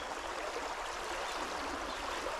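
Fast-flowing water on the River Tame rushes as a steady, broadband hiss, continuous and fairly faint, with no voices.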